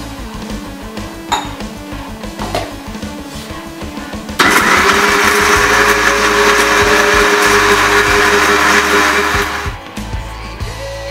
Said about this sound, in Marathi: मिक्सरमधून वाटून घेतलेलं आहे